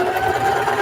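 Sewing machine stitching a straight seam across a mini duffle bag, a short steady whirring run close by with no talk.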